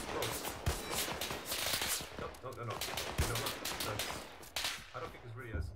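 Machine gun fire in ArmA 3, set in a World War II D-Day+1 battle at a crossroads: dense, rapid bursts with sharp cracks, steady throughout and moderately loud, with voices talking over the shooting.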